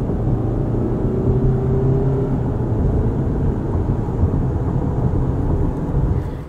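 Car driving with a Thule AirScreen XT fairing on roof crossbars, a loud, steady low road and wind rumble heard from inside the cabin, unchanging throughout with no talking.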